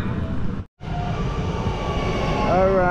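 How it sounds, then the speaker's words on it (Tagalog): A train pulls out of a station bound for Pisa, Italy, giving a continuous loud rumble with a brief dropout, then a rising tonal whine toward the end. "yan train na yan ay papuntang Pisa"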